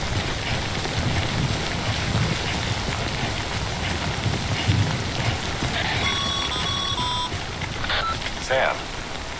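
Steady rain in the Death Stranding video game, a dense even hiss throughout, joined partway by a short run of electronic beeps and tones.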